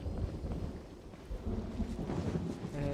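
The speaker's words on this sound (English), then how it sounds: "I really like that thunder sound effect." Thunder in the Genshin Impact video game, a low rolling rumble with rain and wind noise around it, fairly faint and continuous without speech.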